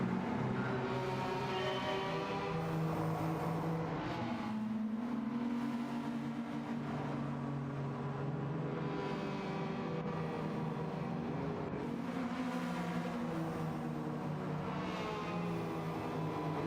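A race car in Gran Turismo 7 drones steadily through the laps, its engine tone rising and falling with shifts and throttle, moderately loud and continuous without talk.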